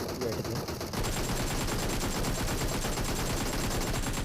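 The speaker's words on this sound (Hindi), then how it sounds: "तो यहाँ पे फायरिंग करते हैं एंड इसको मैं फिनिश कर देता हूँ।" Sustained AKM rifle fire in PUBG mobile, a dense rapid spray of gunshots, loud and continuous after a brief quieter start, with no speech over it.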